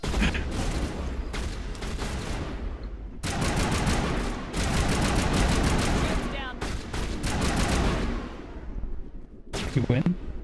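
Sniper rifle fire in a video game: dense, loud bursts of gunfire in several sustained volleys with short gaps between them, mixed with game noise and scattered talk.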